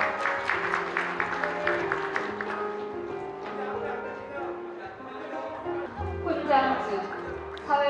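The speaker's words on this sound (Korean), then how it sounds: "모란장 수상자인 서명진 이사장님을 큰 박수로 모셔보겠습니다." Audience applause at a Korean award ceremony where the Order of Civil Merit, Moran Medal, is conferred on a welfare foundation chairman, with sustained clapping that fades as sound from the ceremony continues.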